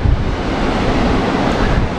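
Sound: Red Sea waves on the shore

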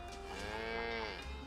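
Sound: cow mooing in video game Fairly OddParents: Shadow Showdown

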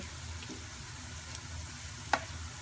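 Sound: garlic frying in hot oil

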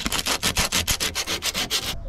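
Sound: hand sanding rusty car panel with sandpaper

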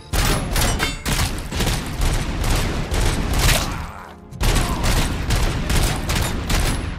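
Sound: powerful pistol gunfire in RoboCop: Rogue City video game

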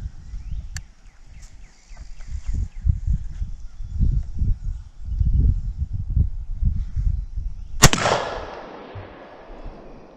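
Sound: shotgun firing, Stevens 301 20 gauge or 410

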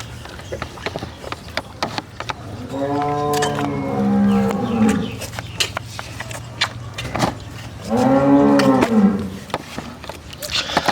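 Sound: dairy cow mooing at cattle market

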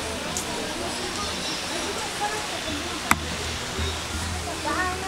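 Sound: water flowing in a man-made river

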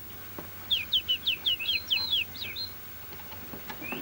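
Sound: birds chirping in a computer ecology game

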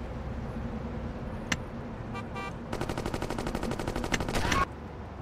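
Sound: rifle gunfire in the video game Gangsters 2: Vendetta

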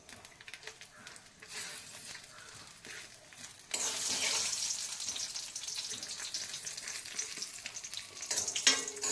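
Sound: mustard seed tempering sizzling

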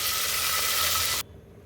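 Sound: water added to hot pan, sizzling

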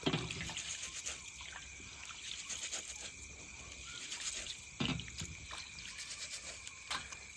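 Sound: washing rice by rubbing in water

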